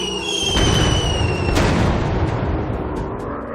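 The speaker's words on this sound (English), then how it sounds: "Dropping bombs! Bomb away!" Bombs burst in a WW2 warplane dogfight video game, loud rumbling explosions that roll and decay under a high whistling engine tone, with no talk.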